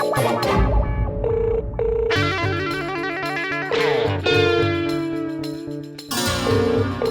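A ringing electronic tone repeats in short bursts over layered music-like sound effects, loud and close, with no talking.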